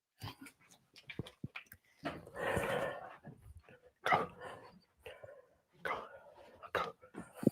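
A dog makes soft whimpering and snuffling sounds mixed with quiet breathy voice, faint and intermittent with a few sharper bursts.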